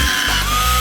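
A power drill whirs loudly, its motor pitch shifting briefly near the start before settling into a steady high whine.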